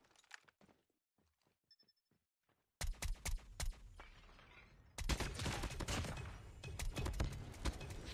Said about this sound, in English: The other guy's shooting my body.